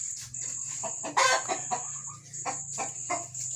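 Chickens cluck in short, irregular bursts close by, with a sustained high-pitched tone and a low hum running underneath throughout.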